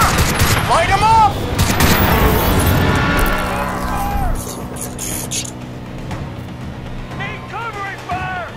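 Gunfire rattles in the shooter game Crysis 2, with loud bursts and sustained automatic volleys up close, under shouted soldier commands that fade as the firing continues more distantly.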